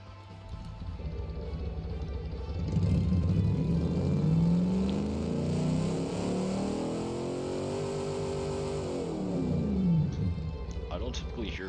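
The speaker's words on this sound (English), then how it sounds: "It's definitely not gonna sound like a Corvette engine." A car engine built in the game Automation revs up, holds a high whining pitch, then winds back down, a steady loud synthetic engine tone rising and falling over roughly eight seconds.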